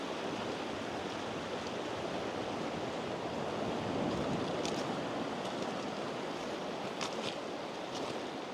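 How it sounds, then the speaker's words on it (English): A rain-swollen river rushes into the sea at a beach at Port Cornaa on the Isle of Man, giving a loud, continuous, broadband wash of water that stays steady throughout with no voices. "So this is the river just flowing into the sea here."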